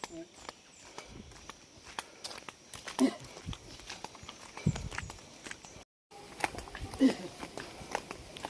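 Horse hooves clip-clop steadily on a cemented road at a walking pace, close by, with faint voices and rustling around them.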